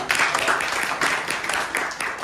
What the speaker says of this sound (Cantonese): 大家俾多次掌聲問啊